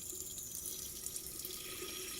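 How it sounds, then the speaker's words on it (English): Water runs steadily from a turned-on faucet into a sink, a constant quiet hiss and splash heard close up without any talk. "So I turn the faucet"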